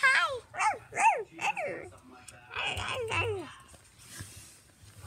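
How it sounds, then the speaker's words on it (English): A small dog at home gives a run of high, yelping barks in quick succession, then a few fainter whines, while people talk softly nearby. "I don't know where our other dog is."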